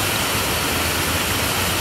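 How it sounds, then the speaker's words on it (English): Twin Falls waterfall in Pisgah Forest roars as a steady, loud, broadband rush of falling water, continuous and close with no voices over it. "Waterfall number two,"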